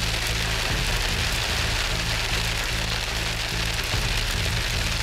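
Heavy rain from a massive thunderstorm at the top of a mountain pass pours down in a dense, constant hiss, drumming hard on a surface beneath a low, pulsing hum.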